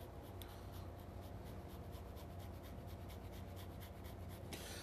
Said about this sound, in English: Then I'm going to grate the cheese.